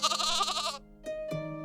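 Two short animated sheep bleats in a children's counting cartoon, following a brief high-pitched musical or voiced phrase, each bleat quick and tonal.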